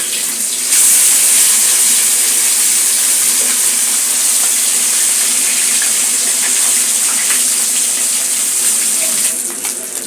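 Freshly flipped amudi fish fry in hot oil, giving a loud, even, continuous hiss that holds close and unbroken throughout.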